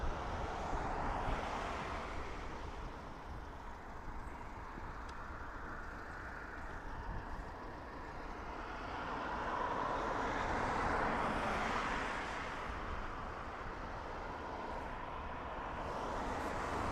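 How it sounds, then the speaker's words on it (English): Broad, steady roar of an EgyptAir Airbus A320neo in from Cairo arriving at Dublin Airport, swelling and easing over time at a moderate distance with no talk. "that's followed by Egypt Air coming in from Cairo on a 5-year-old Neo"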